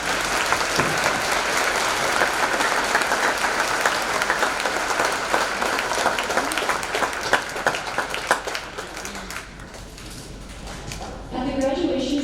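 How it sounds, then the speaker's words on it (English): Sustained applause from a graduation ceremony audience at Pelican Rapids High School, dense steady clapping filling a large hall, easing toward the end before a brief burst of other sound. "Please join me in congratulating these students for a round of applause."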